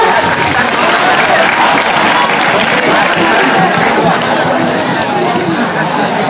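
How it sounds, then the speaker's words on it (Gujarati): An audience at a weekly quiz contest bursts into applause, loud, close and sustained clapping from many hands with some crowd chatter mixed in. "તાળીઓ પાડો"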